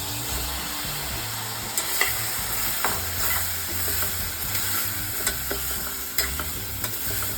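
Drumsticks and potatoes stir-fried in a pan for a Malvani bhaji, with a steady sizzle under repeated scraping strokes of a spoon and a few sharp clicks against the metal, close and continuous.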